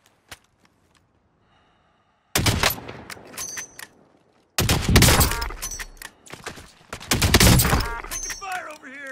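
Gunfire in Warzone: after a near-silent start, loud bursts of rapid shots and sharp cracks arrive in clusters, close and harsh, with short gaps between volleys.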